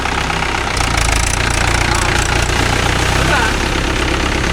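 A Mahindra 575 DI tractor fitted with cage wheels works mud in a rice field, its diesel engine running loud, close and steady with a rough knocking throb throughout.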